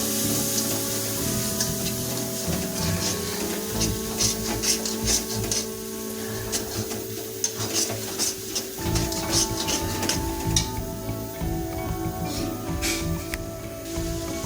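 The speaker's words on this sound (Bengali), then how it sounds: "এখন এটাকে আমরা মিনিট 2 ধরে লো ফ্লেমে কষাতে থাকবো।" Ground spices, including cumin powder, are stirred in a kadai over a low flame, giving a steady low hiss with frequent light scrapes and ticks from the spoon, close and continuous with no talking.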